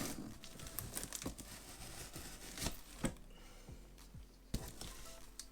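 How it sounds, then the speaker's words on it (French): Crinkling and tearing of packaging as a parcel is carefully unwrapped during an unboxing, with steady close rustles and crumples and a few sharper tears, and no talk. "Donc on va déballer ça en délicatesse."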